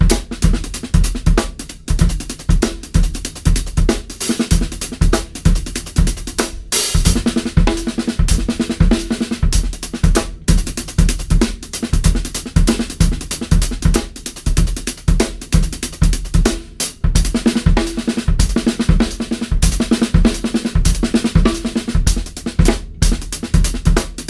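A drum kit plays a steady shuffle groove with fills worked in, giving close, loud, continuous hits with regular accents for about 24 seconds and no talking.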